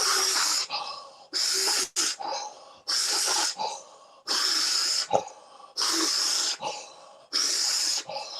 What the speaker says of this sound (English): Intensify the breath.